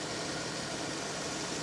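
A Jeep 3.6 liter VVT V6 idles steadily with a dense, even hum and broad mechanical hiss, close and continuous with no talking.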